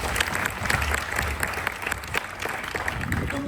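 Loud audience applause at a Bollywood-themed dance show in Mumbai's Film City, dense clapping from a crowd sustained steadily throughout with no talk over it.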